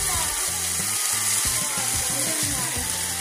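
Polish sausage sizzles loudly in a hot pan for a stuffed bell pepper dish, a constant close hiss of frying with low thumps and scrapes from handling in the pan underneath.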